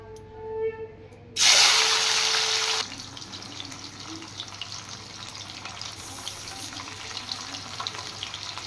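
Small puti fish dropped into hot oil in a kadai set off a sudden loud burst of hissing, which settles after a second into a steady, quieter sizzle.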